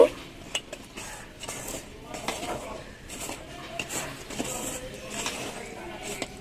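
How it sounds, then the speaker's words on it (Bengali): Hands mixing garden fertilizers with crushed eggshell powder for potted guava plants, giving repeated scraping, rustling and clinking sounds in an irregular rhythm at close range. "তো নিয়ে আমি সবকটা সার খুব ভালো করে এবারে মিশিয়ে নেব।"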